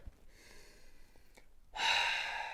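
A single deep inhale in a yoga class, faint at first and then swelling into a louder, airy breath that holds steady near the end, with no talking.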